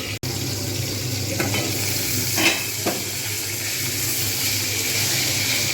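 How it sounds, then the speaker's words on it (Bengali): Pointed gourd (potol) frying in mustard oil in a pan, a steady close sizzle with broadband hiss throughout and a couple of brief stirring scrapes partway. "সুন্দরভাবে পটলগুলো ভাজাও হয়ে গেছে একদম নরম হয়ে গেছে"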